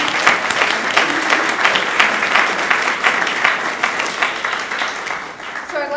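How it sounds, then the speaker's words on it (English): An audience at a history talk breaks into loud, dense applause that holds steady for several seconds before thinning out as a voice begins at the very end. "Connie, would you stand up so we can applaud you,"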